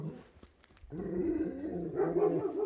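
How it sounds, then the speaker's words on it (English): Big dogs bark and growl from a mountain trail setting in the Balkans, a few deep, gruff barks at moderate distance, fairly faint against quiet surroundings. "Oh, big dogs."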